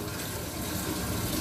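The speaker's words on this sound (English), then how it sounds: "reassembled it, and I'm running a rinse cycle" Samsung washing machine on a rinse cycle, water rushing steadily into the drum, a continuous even hiss with no talk.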